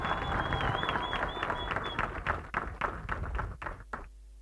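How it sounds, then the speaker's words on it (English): Audience applause for the George Choir at a university graduation ceremony on the George campus, a dense, sustained round of clapping filling the hall before tapering off near the end. "Let's give them another round of applause."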